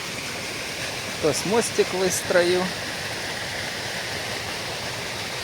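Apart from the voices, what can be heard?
water gushing from a pipe into the lower pond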